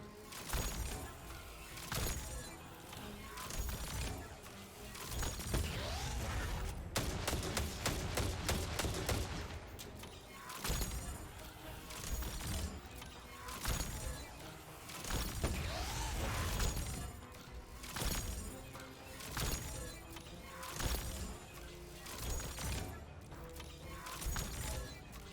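Weapon fire from peek shooting in a Destiny 2 solo Grandmaster Nightfall in Lake of Shadows, using Forerunner and Nightstalker, comes in repeated close volleys throughout, with a quick rapid-fire cluster partway through.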